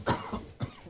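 A man coughs during a podcast recording, three quick dry coughs in close succession, near and fairly loud in a quiet room.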